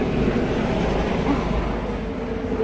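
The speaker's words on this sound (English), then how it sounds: "now we've got an army helicopter" An army helicopter flies overhead above a garden polytunnel, a steady low rumbling drone that holds throughout.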